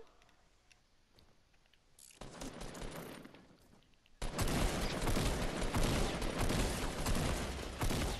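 Dense bursts of automatic gunfire in the video game Fortnite, quieter at first, then loud and sustained rapid fire for the last half, with no talking.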